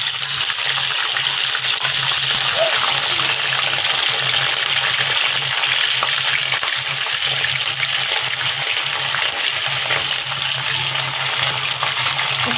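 Ginger paste fries in a pot of oil while pulao is being prepared, giving a steady, even hiss of sizzling that runs unbroken throughout without any talk.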